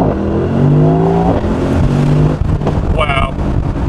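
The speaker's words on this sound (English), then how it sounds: "I'm gonna floor it immediately, and we'll see just how fast I get off the line" A 2023 Mercedes-AMG SL63 Roadster floored from a standstill, its engine note rising loud and close in a steady hard pull that lasts a couple of seconds before easing off.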